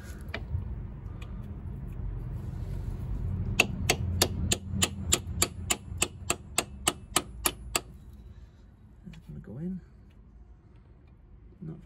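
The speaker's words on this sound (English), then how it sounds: "Let's try hammering that in." Metal hammer blows driving an ABS reluctor ring onto a VW Sharan CV joint: about a dozen sharp, evenly spaced ringing strikes in quick succession, close and loud over a low background rumble.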